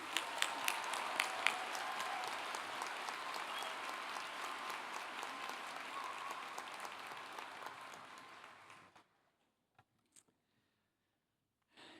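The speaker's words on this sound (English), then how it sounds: "a final round of applause." Audience applause at a veterinary medicine commencement ceremony, a sustained wash of many hands clapping that gradually fades and stops near the end, followed by a few isolated faint sounds.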